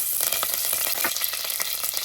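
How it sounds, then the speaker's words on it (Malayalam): Curry leaves hitting hot coconut oil with popping mustard seeds give off a loud, steady close-up sizzle, dotted with sharp crackles and spits throughout. "കടുക് പൊട്ടുന്നുണ്ട് അതിലേക്ക് കുറച്ച് കറിവേപ്പില"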